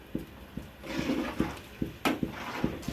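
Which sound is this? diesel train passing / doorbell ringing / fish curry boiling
fish curry boiling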